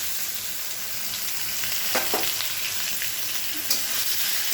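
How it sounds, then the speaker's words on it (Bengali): Onions sizzle loudly in a pan with cumin, a steady crackle broken by a few scraping stirs of a spoon. "ভালো করে নেড়ে চেড়ে ভাজবো একটু ভাজা ভাজা ভাজা হয়ে যাবে"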